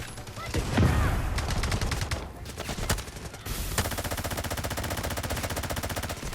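Rapid automatic gunfire from the video game Delta Force rattles in dense sustained bursts, loud and close, with a brief lull midway before a steady machine-gun stream resumes.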